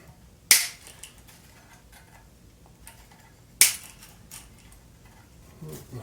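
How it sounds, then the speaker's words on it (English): Cutters snip old strings on a Squier Classic Vibe Jaguar electric guitar, making two sharp, close metallic snaps about three seconds apart, with faint rustling between them. "We need to snip the strings."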